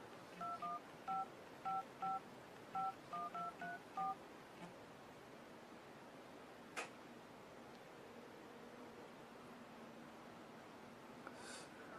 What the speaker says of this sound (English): Phone dialer.